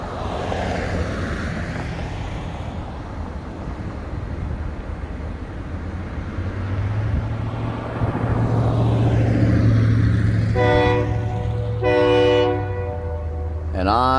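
A train rumbles steadily toward a CN rail crossing in Wisconsin, then sounds two loud, blaring horn blasts in quick succession near the end over the rolling noise.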